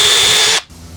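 A power drill whirs at high speed close by while drilling a pilot hole, then cuts off abruptly, leaving faint background noise.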